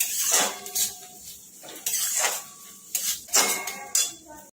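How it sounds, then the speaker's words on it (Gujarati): A spoon scrapes and clinks against a pan while green chilies, dried garlic and ginger paste are stirred together for green pulao, repeated rhythmic metallic strokes close by with short pauses between them. "હવે અંદર એડ કરીશું લીલા મરચાં, સૂકું લસણ અને આદુની પેસ્ટ। મિક્સ કરી લઈશું।"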